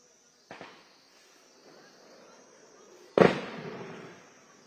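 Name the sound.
gunfire during an army encounter operation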